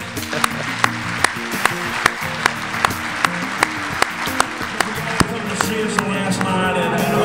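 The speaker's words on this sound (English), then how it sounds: "deserve a wonderful round of applause" Applause from an audience at a tribute gathering: evenly spaced, crisp claps stand out above a steady crowd murmur with faint tonal background sound, fairly loud throughout.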